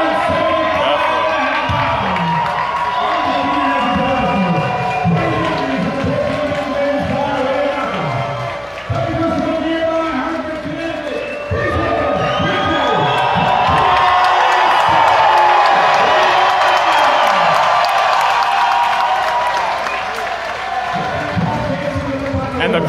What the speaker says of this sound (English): Crowd support for Popeye is just amazing as they announced him.